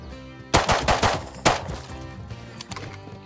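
Several gunshots from the video game Rust, including a rapid automatic burst, ring out loud and close in two main volleys followed by a few fainter scattered shots.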